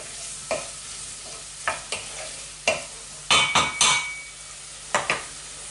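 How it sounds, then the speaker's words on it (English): Onions fry in butter and oil with cooking juices, a soft steady sizzle broken by repeated scraping stirs of a utensil against the pan, close up, with no voices. "That's onions beginning to caramelise with all juices, butter, oil."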